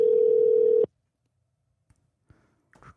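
A steady telephone tone sounds for under a second as a call goes out to a guest, then cuts off into near silence broken by a few faint clicks.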